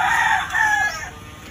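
A rooster crows once nearby in a loud, drawn-out call at an outdoor spot where chickens are being sold, with a faint hum of surroundings beneath it.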